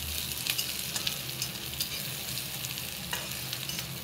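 Onions and green chilies fry in hot oil for upma, a continuous close sizzle broken by repeated scraping and clinking taps of a spoon stirring the pan.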